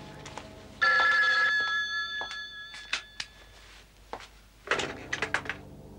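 An old-fashioned telephone bell rings in a 1975 German apartment, a sustained ring followed by a few thunks and a second burst of ringing near the end, with no talk.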